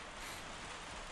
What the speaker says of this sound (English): Background noise you can hear is rain.